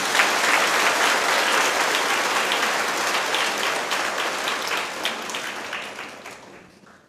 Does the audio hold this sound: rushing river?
no